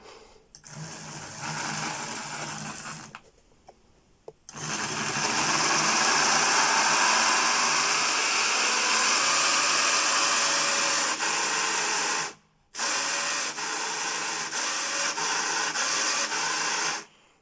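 Electric motor of an A979 TaskForce RC car spinning up under throttle, a loud high-pitched whine that runs steadily for long stretches, broken by a few short pauses, close by with no talking.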